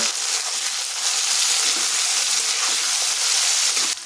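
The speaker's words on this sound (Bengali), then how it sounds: "এখন কেটে ধুয়ে রাখা ফুলকপিগুলো ছেড়ে দিচ্ছি" Washed, cut cauliflower fries in hot oil with turmeric and salt, producing a dense, steady sizzle that is loud and close. The crackling hiss stays constant, with no voices.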